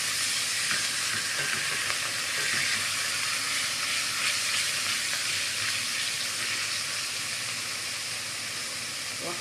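Garlic frying in a little oil for Egyptian koshari, a steady bright sizzle, close and continuous, with faint stirring throughout.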